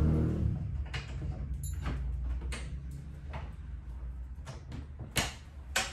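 A key turns in the lock of the bottom section of an Anglo Indian campaign chest, giving several sharp metallic clicks and knocks spread over a low room hum, a louder click near the end.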